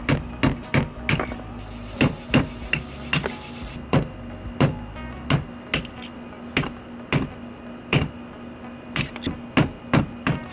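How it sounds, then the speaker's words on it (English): Sharp metallic hammer strikes on a chisel ring out one after another at an uneven, steady pace, close and loud, breaking up rock outdoors for an aquarium rescape. "we are once again outside with hammer and chisel, and I'm gonna break up this rock a little bit"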